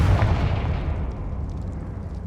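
A Confringo fire spell blast cast in the video game Hogwarts Legacy, a booming explosive burst with a deep rumbling tail that fades over about two seconds, heard alone.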